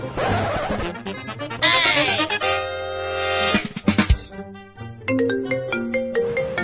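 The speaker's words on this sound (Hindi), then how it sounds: "मेरा फोन बज रहा है।" A mobile phone ringtone plays loudly and clearly, a repeating electronic melody with bright tonal notes, heard alone without talking.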